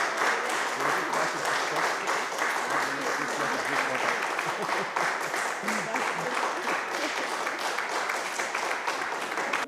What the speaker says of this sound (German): Und es gibt einen Applaus.